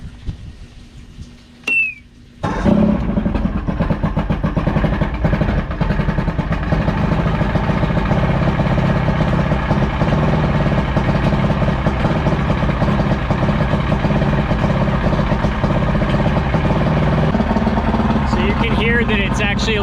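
An Evinrude V4 crossflow outboard engine, still cold, starts after a click and settles into a rough, uneven idle, running loud and close with a steady rumble; a voice talks over it.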